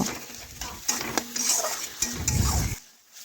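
Tomato sautéed with cumin and mustard paste in a pan for a fish curry: a spatula scrapes and clinks against the metal under a light sizzle, then the sound cuts to near silence.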